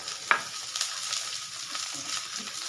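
Onion and garlic sauté in a pan for bagoong alamang, giving a close, steady sizzle with a few light scrapes from stirring.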